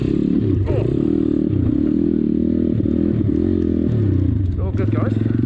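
A pit bike ridden off-road through mud in wet UK weather, its engine droning loud and close throughout with rises and dips in revs, clattering and scraping as it churns through the muck.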